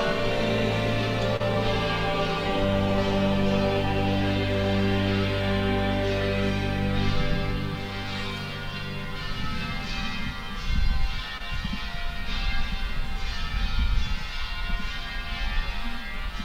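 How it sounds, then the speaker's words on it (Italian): Church bells ring festively at a coronation celebration, a loud, continuous peal with overlapping strokes sustained throughout, joined by a low rumbling crowd or background noise in the latter half. "Le campane suonano a festa."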